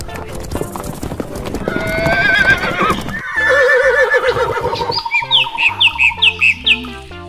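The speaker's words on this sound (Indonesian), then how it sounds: "Widih, ini kuda." A horse whinnies loudly while hooves clip-clop in a quick, even run, joined by chirping birds and bright toy-like effects, with a person talking over the start.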